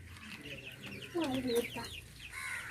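A chicken clucks in short, rising calls at close range, with a few softer bird chirps around it over a quiet background.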